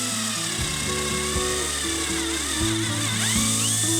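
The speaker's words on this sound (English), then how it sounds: "Using a 3/16 inch drill bit, I drill a hole through the board." A power drill with a 3/16 inch bit whines steadily, its pitch dipping and shifting as it bores through a wood board, loud and close with no talking.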